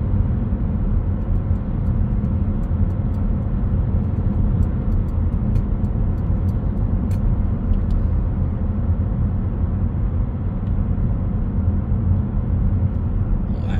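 A car cruises on a French road at about 90 km/h, giving a steady, moderately loud rumble of engine and tyre noise that stays unchanged with no talking.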